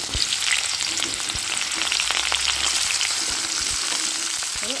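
Small cut potato pieces sizzling in hot oil with fragrant spice tempering for a pea and potato curry, a loud continuous crackle with scraping stir strokes and soft clinks near the pan, no voices.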